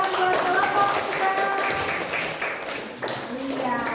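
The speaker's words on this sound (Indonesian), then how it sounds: "Beri tepuk tangan buat kelompok kita." Classroom group being applauded, a light patter of clapping and taps from several people mixed with voices talking over it.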